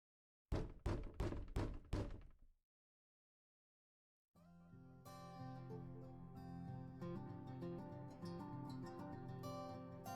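Five sharp knocks on a door in a video game, loud and close in quick succession, followed by silence and then sustained music.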